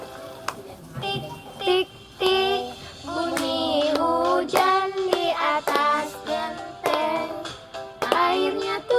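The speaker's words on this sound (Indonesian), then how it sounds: "Tepuk tangannya." Children and adults clap their hands along to a sung children's song, sharp irregular claps scattered under the singing voices.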